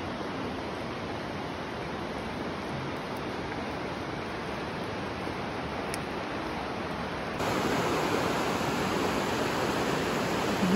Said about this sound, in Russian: Горная речка течет